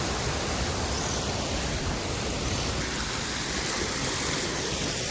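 Rushing floodwater on a farm after unseasonal rain, a steady dense roar of flowing water, constant and close with no voices over it.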